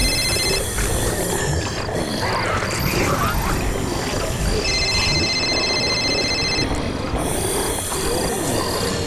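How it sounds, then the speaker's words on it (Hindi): A mobile phone ringing in a haunted mansion. The ring repeats in steady electronic bursts under a dense, noisy background of frog-like croaking and wildlife sound. "जीत के फोन की आवाज"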